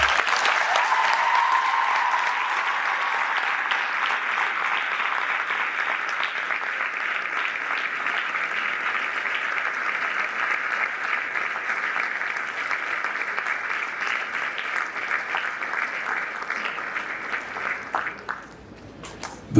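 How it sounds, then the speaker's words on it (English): Sustained audience applause at a secondary school student leaders investiture, steady and dense for most of the stretch before tapering off near the end, with no speech over it. "please give them a loud applause"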